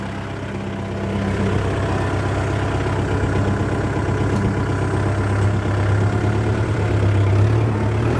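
A Kubota MU4902 tractor engine running steadily nearby, a loud continuous low diesel drone with a slight rise in level after the first second and no talk over it.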